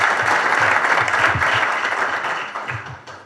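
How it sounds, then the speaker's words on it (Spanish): Audience applause at a book presentation for Quim Brugué. A dense burst of clapping from a crowd starts loud, fades over a few seconds and thins out toward the end. "muchísimas gracias y un aplauso porque ha traducido"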